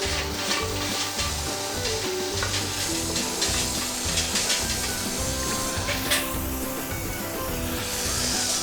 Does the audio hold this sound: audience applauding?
no